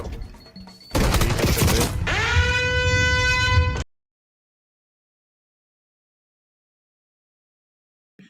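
Call of Duty gunfire: about three seconds of dense, rapid automatic shots ending in a sharp burst that rings out with a tonal echo, then a cut to silence.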